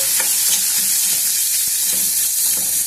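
Onion pieces fry with spices in a hot pan, a loud close steady sizzle with a few stirring scrapes and no talk.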